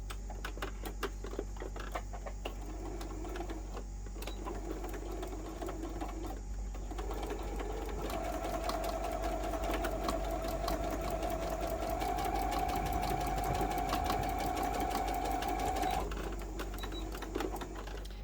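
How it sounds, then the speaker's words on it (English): A sewing machine stitches a wallet steadily for the whole stretch, a fast mechanical whir and rattle at close range with no talking. "So let's head over to the sewing machine and do that."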